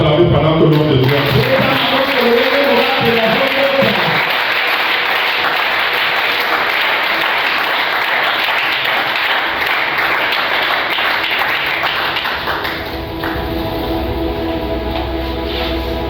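A church congregation at a closing seminar sermon breaking into loud sustained applause and cheering, a dense roar of clapping and voices that holds for the whole stretch, with music or speech faintly underneath at the start.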